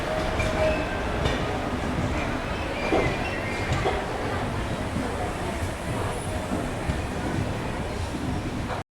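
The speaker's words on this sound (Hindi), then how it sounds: "चलिए, तो फिलहाल जो है अपना डिपार्चर हो गया है सिरपुर कागज़ नगर रेलवे स्टेशन से।" The Andhra Pradesh Express, running Visakhapatnam to New Delhi, departs Sirpur Kagaznagar station with a loud, steady rumble of coaches and rhythmic wheel clatter on rails, heard from on board, with a voice talking at times.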